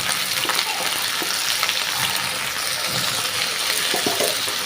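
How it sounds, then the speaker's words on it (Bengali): Greens and beans frying in a pan with garlic, onion and a little salt, giving a loud, steady sizzle and hiss with occasional soft stirring scrapes throughout, no voices. "শাকটা আমি রসুনের সাথে পেঁয়াজের সাথে একটু ভাজা দিয়ে নিব।"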